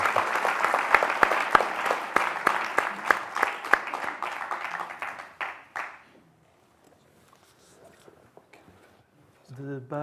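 An audience applauds at a literary reading, a dense wash of clapping with a few sharp individual claps that fades out after about six seconds, leaving near silence before a voice begins at the very end.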